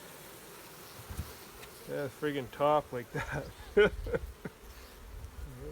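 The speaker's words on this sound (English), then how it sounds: "There's a lot of bees in here." Honey bees swarm around an open hive, their steady buzzing hum running through the whole stretch while someone talks close by.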